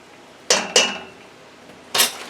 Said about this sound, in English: Now I'm going to just mix this so that that cheese gets melted down in there.